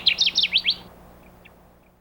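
Kirtland's warbler song: a rapid series of bright, loud chirping notes delivered in a quick rhythmic burst, followed by a few faint distant chips against a quiet background.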